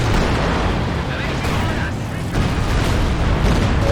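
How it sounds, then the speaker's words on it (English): Grenades going off in a Company of Heroes 2 battle, a dense, continuous roar of blasts and rumbling explosions with a voice talking underneath throughout. "Couple of crew grenades going off, and the commando's grenades."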